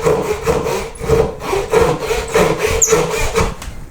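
Hand saw cutting a corner off a wooden koi carp carving, with steady, rhythmic back-and-forth strokes. Close and loud, about eight rasping passes, no voices.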